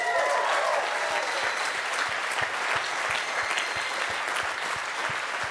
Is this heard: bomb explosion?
no